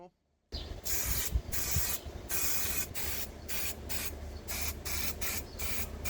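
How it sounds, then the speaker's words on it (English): Black spray paint hisses from an aerosol in repeated bursts onto Mini Cooper S R53 exterior parts, close and loud, each pass separated by short pauses. "Drying time is through, so I am applying now this black paint."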